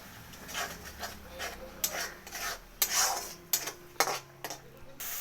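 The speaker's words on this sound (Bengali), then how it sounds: "এবার মিক্সির বাটি ধোয়া জল একটু দিয়ে পরিমাণ মতো নুন, হলুদ, 1 চামচ কাশ্মীরি লঙ্কার গুঁড়ো দিয়ে ভালো করে কষিয়ে নেব।" Salt, turmeric and Kashmiri chili powder cooked in a pan, heard as intermittent scraping and rasping strokes of a spatula against the pan with faint background hum.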